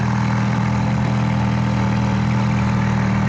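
Ferrari F430 and Lamborghini Gallardo sit side by side with engines idling, a steady, loud low rumble with a constant hum and no breaks, no talking over it.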